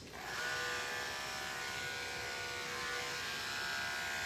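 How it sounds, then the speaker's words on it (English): Andis dog grooming clippers switch on and run with a steady, close electric buzz and whine, holding a constant hum throughout. "I'm going to use the clipper and round the feet"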